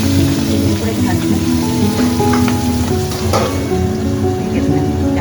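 Fish frying in hot oil in a home kitchen gives a loud, steady sizzle with constant crackling splatter throughout, and faint voices sit underneath.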